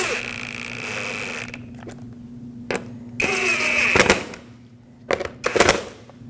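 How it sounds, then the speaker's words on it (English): A power driver runs screws into the plastic of a 2010-2015 Lexus RX350 license plate bracket, whirring and rattling in several short bursts separated by brief gaps, close-up over a faint steady hum. "It comes with 2 new screws that you'll have to thread in."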